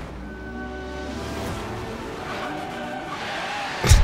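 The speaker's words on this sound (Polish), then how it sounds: "Na każdym biegu mam poślizg." A car in the racing game Forza Horizon 3 launching with wheelspin, its engine revving and rising over a squealing skid, ending in a brief louder burst.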